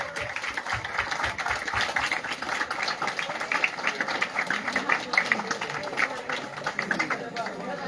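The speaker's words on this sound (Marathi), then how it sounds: "चला केक कापताना फक्त टाळ्या वाजवायच्या" At a retirement celebration for an army major, a crowd claps steadily and rhythmically as the cake is cut, a dense wash of applause with voices chattering underneath.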